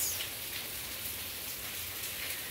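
Steady rainfall patters down in a continuous soft hiss, with no voices, just the even wash of drops on surfaces.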